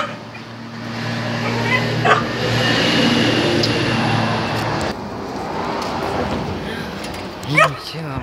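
Dogs near an old hurricane-damaged house whimper and give short yips, with a couple of sharp barks standing out, while someone talks over them.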